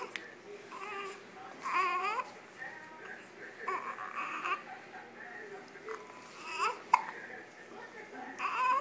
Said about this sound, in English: listen to him hiccup